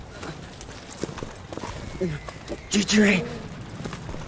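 Chocobo in the Final Fantasy Type-0 HD video game makes horse-like hoof clip-clops, a quiet steady trot under game sounds, with a person briefly speaking.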